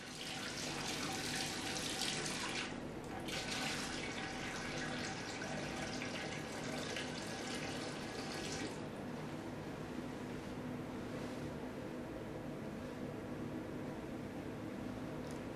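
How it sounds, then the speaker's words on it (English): Water pours steadily into an autoclave, a continuous loud rushing stream that shifts in tone partway through and carries on alone with no voices. "Add just enough water to the autoclave to cover the element."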